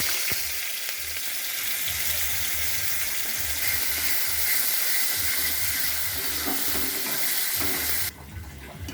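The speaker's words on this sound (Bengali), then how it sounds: "পেঁয়াজটা লাল লাল করে ভাজা হয়ে গেছে" Onion and garlic paste fries in oil in a pan for a duck egg curry, giving a steady, loud sizzling hiss with faint stirring scrapes underneath, the sizzle dropping off near the end.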